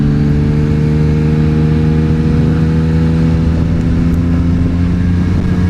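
A vehicle creeping through in low gear, its engine holding a loud, steady, close drone with a strong low hum and no obvious revving or pauses throughout.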